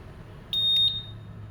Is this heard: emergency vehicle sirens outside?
no